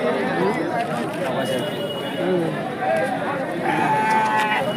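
Goats bleat several times amid a busy, noisy crowd at a livestock market in Tumkur, with steady chatter of many voices all around.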